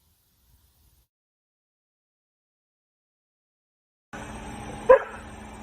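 A dog barks once at night in the woods, a single sharp close bark rising out of steady outdoor background noise after a stretch of silence.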